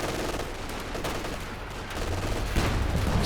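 Machine gun fire from Company of Heroes 2, a dense, rattling stream of rapid bursts mixed with other battlefield gunfire, swelling louder toward the end.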